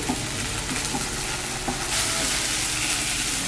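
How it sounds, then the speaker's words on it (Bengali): Ginger paste fries in a wok over high gas, giving a steady, close sizzle with scraping and stirring knocks running through it, continuous and without speech. "আদাটা হালকা ভেজে নিতে হলো"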